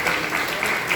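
Applause from a church congregation during a service, dense steady clapping from many hands filling the room at moderate loudness with no break.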